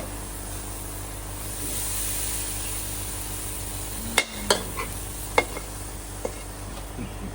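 Pad thai noodles stir-fried in a wok at a cooking class in Chiang Mai, Thailand, a steady hiss of sizzling oil with a few sharp metallic scrapes and clanks of the utensil near the end, with no talk.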